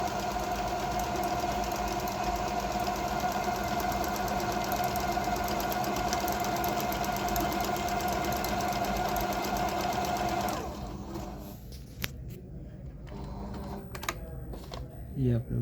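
A Juki HZL-T8100 computerized sewing machine runs steadily through embroidery stitching for about ten seconds with a fast mechanical rattle, then stops, leaving quieter handling noises and a voice talking.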